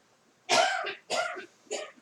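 Three harsh coughs close to the listener, each a separate burst, the last one shorter and lighter.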